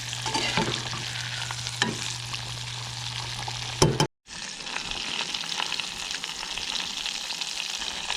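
Green tomato slices fry in a pan with a steady close sizzle and crackle, broken by a clatter and a sudden momentary drop to silence as they are flipped, then the frying resumes; no talking.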